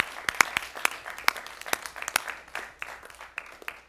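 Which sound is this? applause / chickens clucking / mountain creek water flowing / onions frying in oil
applause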